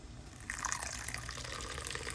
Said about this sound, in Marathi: आणि यात आपण पाणी घालूया